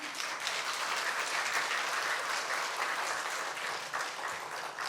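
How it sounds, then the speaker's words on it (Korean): A church congregation claps to welcome a missionary preacher to the front at a Sunday afternoon service, a dense and even wash of applause from a full room that holds steady throughout. "나오실 때 박수로 한번 환영하도록 하겠습니다"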